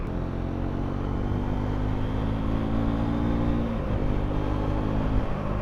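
Triumph Scrambler 400X motorcycle riding on a Texas road, a steady engine drone with low exhaust rumble and wind buffeting, pitch shifting through gear changes, heard close from the rider's position.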